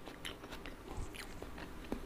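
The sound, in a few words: eating stir-fried chicken intestines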